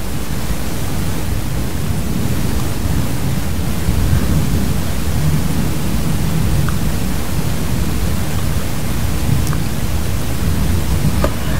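A thunderstorm pours down with heavy rain, making a constant loud broadband wash with deep low rumbling underneath and no quiet gaps.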